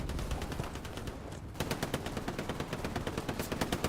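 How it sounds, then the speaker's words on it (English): Machine gun suppressive fire comes from the left in a Battle of the Bulge video game match near Foy, as rapid, evenly spaced bursts that pause briefly and then resume louder and continuous. "MG suppression from the left."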